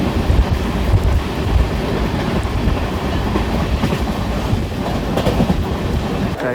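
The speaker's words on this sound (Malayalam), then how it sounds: "അപ്പം ഗൈസ്, നമ്മുടെ ട്രെയിൻ വന്നിട്ടുണ്ട്." A Kerala Sampark Kranti Express rolls into a station with a loud, close, continuous rumble and rhythmic wheel clatter that holds steady throughout, with no talking.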